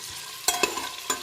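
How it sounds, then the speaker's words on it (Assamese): Vegetable pulao ingredients frying in a pan on a gas flame give a soft steady sizzle, broken by a few sharp scrapes of stirring. "এতিয়া আমি এইখিনি ভালদৰে ভাজি ল'ব লাগিব"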